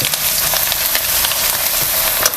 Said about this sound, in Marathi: लसणाचं कच्चेपणा जाऊसपर्यंत आपल्याला परतून घ्यायचं आहे